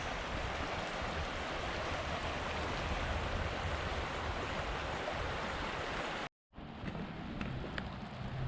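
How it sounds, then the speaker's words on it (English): Continuous rushing water from a small creek in Yosemite National Park flowing steadily nearby, broken by a brief moment of silence before the flow resumes. "Man, what a beautiful little creek though."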